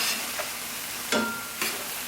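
Oyster mushrooms sauté in a pan with a steady, close sizzle, broken by a few short stirring scrapes.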